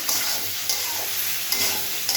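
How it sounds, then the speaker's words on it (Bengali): Soybean chunks with turmeric being stirred in a hot pan, a loud close sizzle with quick repeated scrapes of a spatula about every half second. "দিয়ে ভালো করে নাড়বো"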